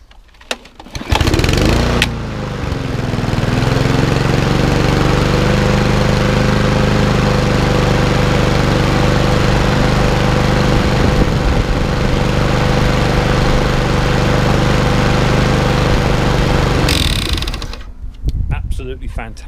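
Mountfield HP474 petrol lawn mower engine starting up after a throttle cable repair, then running loud and steady close by for about fifteen seconds before cutting out.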